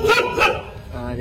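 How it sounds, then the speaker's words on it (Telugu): A dog barks a couple of times close by, the sharp yaps overlapping with a person speaking. "కుక్క అరుస్తుంది"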